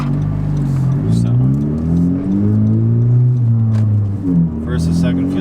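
A car accelerates through first and second gear with a short shifter fitted, the engine revving up close and loud, dropping at the shift and climbing again while someone talks over it.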